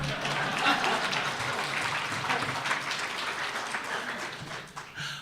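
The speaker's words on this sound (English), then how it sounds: "You're supposed to applaud there." Audience applause at a Chicago Teachers Union speech, a steady wash of clapping from a crowd held at moderate level for several seconds, tapering slightly near the end.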